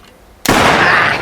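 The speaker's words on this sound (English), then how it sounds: "Several gunshots make the girl flee the scene instantly." A single sharp, loud gunshot-like burst from a film scene cracks after brief quiet, then a dense noisy wash lingers for the rest of the moment.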